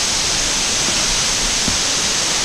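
Rainbow Falls waterfall rushing, heard on a hike: a steady, even wash of falling water filling the whole stretch with no other sound standing out.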